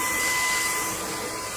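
A JELLYPIG cordless stick vacuum cleaner, an upgraded 650W, 55kPa model, runs steadily with a broad, even airy whoosh and thin motor whine, close and loud with no talking.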